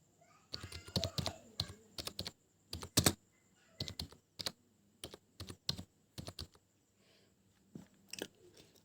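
Keystrokes on a computer keyboard while student details go into a school education portal, coming in short irregular bursts of close, crisp clicks separated by brief pauses, with no voice.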